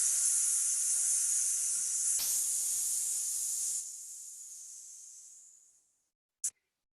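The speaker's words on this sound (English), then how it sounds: "And then you're gonna exhale and make an S sound." A person exhales in a long, breathy hissing S sound that starts strong and fades away over several seconds, followed by one short, sharp hiss.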